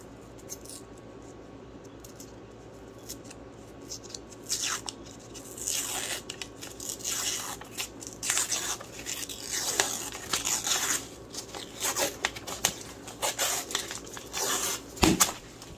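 Label being peeled off a cardboard Pillsbury cinnamon roll can, heard as close, irregular tearing and crinkling scrapes in short bursts, ending with a sharp pop-like thud.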